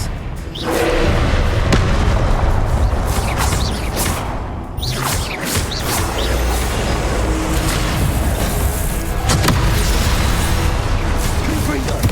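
Confringo blasting spell explosions in the Hogwarts Legacy video game: loud, dense booms and thuds with whooshing bursts in rapid succession, forming an almost continuous barrage of combat noise.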